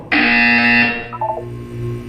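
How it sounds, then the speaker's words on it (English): A loud electronic buzzer from the Portal 2 video game sounds once, a harsh sustained tone lasting about a second before cutting off, followed by a brief trailing electronic blip. "When you hear the buzzer, look down at the floor"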